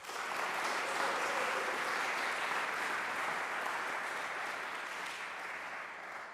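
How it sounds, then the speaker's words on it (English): Steady audience applause rings through a trombone masterclass at a trombone symposium, an even wash of many hands clapping from start to finish with no talk over it. "but let's give him a round of applause."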